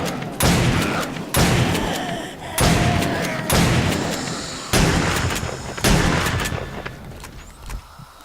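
Gunfire in 7 Days to Die, loud close shots in about six sharp bursts, each followed by a decaying boom and rumble, irregularly spaced under a faint background.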